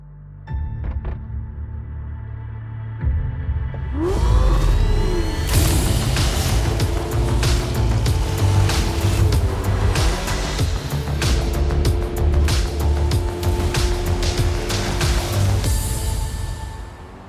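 A Bertone GB110 car starts up and pulls away, its engine swelling from a low idle into a loud, steady drive with ticking and mechanical clatter close by.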